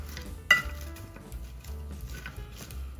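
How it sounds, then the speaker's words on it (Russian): A utensil gives one bright clink, then scrapes softly and repeatedly through chicken breast, peppers and onions frying in a pan. A low sizzle sits under the gentle stirring. "И теперь это все немножко перемешиваем."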